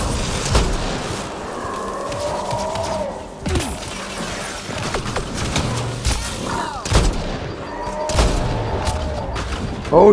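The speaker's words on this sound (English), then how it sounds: "Sounds like gunfire." Mass Effect Andromeda gunfire: repeated sharp gunshots and bursts, some close and loud, others more distant, over a rumbling game soundscape with no talking.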